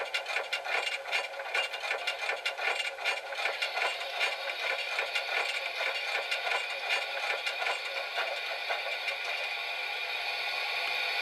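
A steady broadband hiss with a fluttering, rushing texture runs for several seconds without pause: the injector sound from an HO scale Class J model steam locomotive.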